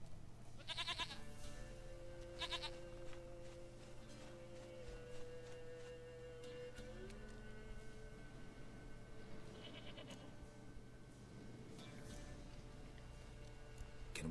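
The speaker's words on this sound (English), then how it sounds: "Goat of mine, dearest," Goat bleating in The Witcher 3 video game, a few wavering bleats over a steady low hum of game ambience, with no talking.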